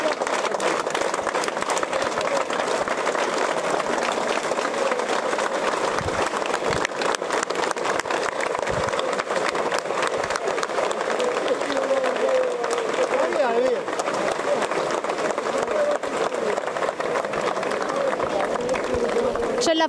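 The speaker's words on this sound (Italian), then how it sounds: "Applausi, Lorena!" A large crowd claps and cheers steadily and loudly throughout the La Vara procession held in memory of Lorena, with a voice speaking over the dense, continuous applause.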